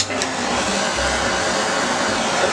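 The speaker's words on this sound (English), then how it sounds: "so let me get the blowtorch" A blowtorch roaring over a blue acrylic fluid dirty pour painting, a loud steady hissing rush with no talk.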